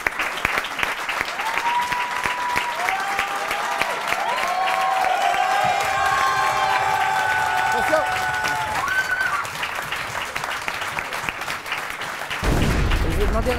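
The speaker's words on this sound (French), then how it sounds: "On va les applaudir tous ensemble." An audience on a Kandidator broadcast applauds all the evening's candidates on Easter Sunday, sustained crowd clapping with some cheering and a tonal line running through the middle, swelling to a louder burst at the close.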